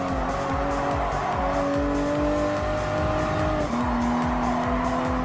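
GR Supra GT race car in Gran Turismo Sport at Circuit de la Sarthe, its engine a loud, continuous high drone with a steady pitch that briefly drops on a gear change, alongside constant tire and road roar.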